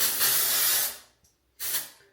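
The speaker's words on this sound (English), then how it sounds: "You want to take some texture spray." Texture hair spray hissing from an aerosol can onto hair in two bursts, a long spray, a short pause, then a shorter second spray, close and clear.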